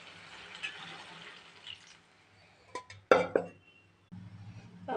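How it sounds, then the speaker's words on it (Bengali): Water is poured into a tomato-based fish curry to make the gravy. It arrives as a few short splashing bursts near the middle of the clip, set against faint kitchen background noise. "এবার ঝোলের পানি দিয়ে দেবো"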